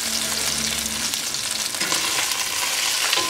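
Chopped carrots and celery frying in oil for braised short ribs, a loud, dense sizzle that continues without a break, with occasional stirring movements close by and no speech.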